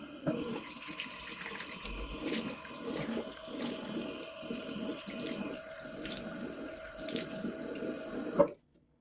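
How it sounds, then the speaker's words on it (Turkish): Water runs steadily from a sink tap for about eight seconds during face washing, a close, continuous splashing rush with small surges, then cuts off abruptly near the end. "ben şimdi yüzümü yıkayacağım"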